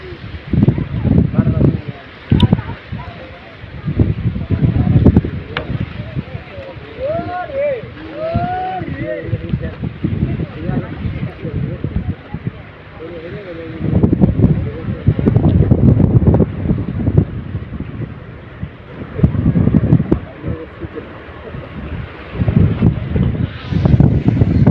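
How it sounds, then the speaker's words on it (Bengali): Strong, gusty wind sweeps across a river during fishing, a steady rushing roar that swells and buffets the microphone in waves, with faint voices and small tonal sounds surfacing in places. "আজকেও প্রচুর পরিমাণ বাতাস, ইদানিং প্রচুর পরিমাণ বাতাস থাকতেছে নদীতে।"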